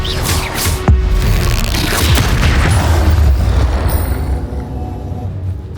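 A Confringo fire spell blasts during a goblin-village battle in Hogwarts Legacy, producing a loud, sustained rumbling explosion with a sharp crack near the start that gradually fades out.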